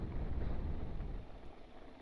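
Wind blows across a reservoir campsite on a motorcycle camping trip, a steady rushing buffet against the microphone, loud and close, with no voices.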